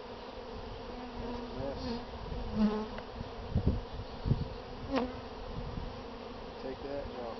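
Young nurse honeybees buzz steadily at a hive frame during work on a mini mating nuc with queen cells, a dense close hum with a few individual bees passing nearer, and a person speaks briefly.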